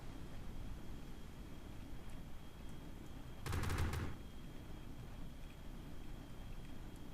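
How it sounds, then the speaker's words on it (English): Gunfire from enemy fighters in Kerbal Space Program: one short burst of rapid shots, about half a second long, stands out over a steady low rumble of engine or wind noise and is otherwise alone. "We got some fire from over there. Oh, that's some enemy fighters. And oh god, I'm being shot at."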